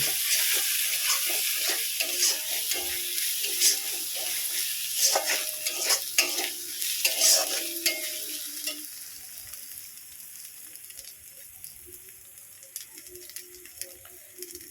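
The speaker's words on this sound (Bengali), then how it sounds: "হলুদ দিয়ে মশলার সঙ্গে খুব সুন্দর করে কষিয়ে নেব" Spices with turmeric fry in oil and are stirred in a pan, a loud close sizzle with scraping stirs during the first half that gradually fades to a softer, quieter hiss, with no speech.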